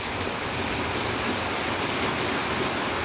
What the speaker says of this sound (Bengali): এত বৃষ্টি হচ্ছে